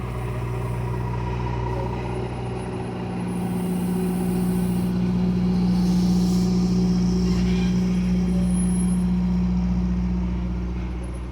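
A truck pulling a 40- or 50-foot trailer, a low steady diesel engine rumble with a droning hum that swells in the middle as it runs nearby, plus faint higher hiss and no talk.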